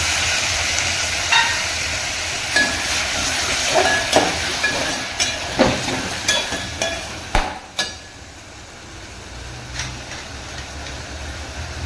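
Curry leaves and tomato hit a hot pan of oil for Tamil-style crab soup, giving a steady broad hiss with several sharp pops and crackles, close and loud, with no talking.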